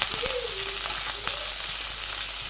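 Onions frying in a pan during home cooking in a Bangladeshi village kitchen, giving a steady soft sizzle throughout with a few faint clinks of stirring and no talk.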